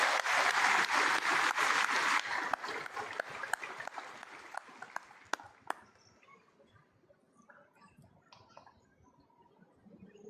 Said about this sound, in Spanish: un caluroso aplauso para los Boy Scouts